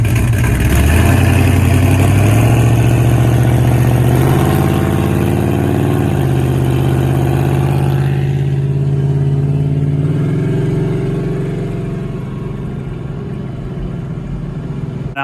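A 440 V8 Dodge Charger's exhaust, a deep, loud engine note that climbs through several revs, holds, then settles back toward a lower idle burble.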